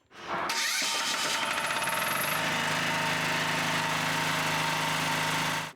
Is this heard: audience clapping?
no